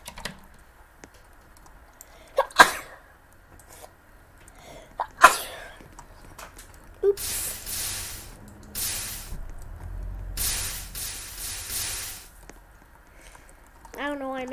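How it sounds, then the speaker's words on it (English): A few sharp breathy bursts, then a loud sneeze and some noisy hissing breaths, with brief vocal sounds in between. "I feel a sneezing coming."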